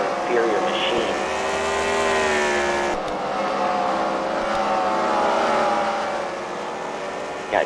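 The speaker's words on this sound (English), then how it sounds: "Got chasing the Elliots, putting down more points here as he comes up on another Candyman car, running in 7th spot here" Race cars run laps on a track at a CWRL fight night event at The Freedom Factory, their engines droning steadily and fairly loud throughout while a commentator talks over the action.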